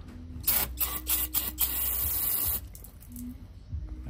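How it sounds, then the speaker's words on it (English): Brake cleaner sprayed onto BMW X3 M parts during an oil change, heard as several short hissing bursts followed by one long continuous spray, then the hiss cuts off to a quieter background. "Okay, a little brake clean."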